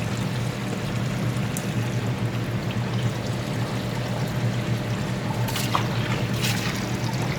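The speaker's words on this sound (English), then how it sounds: "Let me give them another blast of water." Water pours and splashes steadily into a tub holding tropical fish, a continuous rushing flow with a low hum beneath and a couple of brief sharper splashes near the end.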